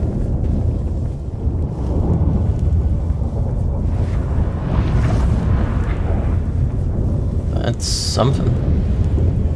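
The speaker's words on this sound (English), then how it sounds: "That a storm?" Stormy weather in the video game The Witcher 3, a continuous loud rumbling roar of wind and thunder-like noise, with characters speaking over it.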